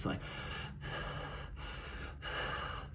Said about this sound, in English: It's like she's breathing hard, and it's a sign of fearfulness.